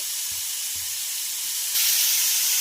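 Grated radish frying in a pan over medium gas makes a steady, fairly quiet hiss that swells louder partway through. A few soft low knocks come early.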